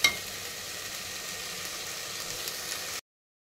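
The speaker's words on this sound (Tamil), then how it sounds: "இப்போ அதையும் எண்ணெயில் போட்டு நல்லா வதக்குறோம்." Ginger and garlic sautéing in oil in a clay pot while a chicken biryani is being made, a steady soft hiss and sizzle that carries on without pause for about three seconds and then drops to silence.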